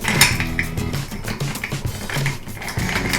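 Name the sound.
stirring whisky with ice in a glass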